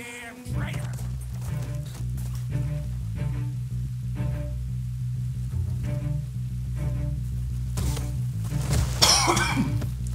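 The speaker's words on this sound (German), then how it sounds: "jetzt muss ich kurz husten" A person coughs several times, close and fairly loud, over steady Red Dead Redemption 2 game audio with a low droning background.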